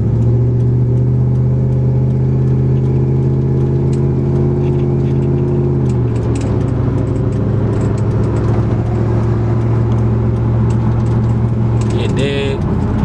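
A truck engine hums steadily at mid pitch while cruising, with a brief shift in tone around six seconds and a faint rattle near the end; the drone runs continuously throughout.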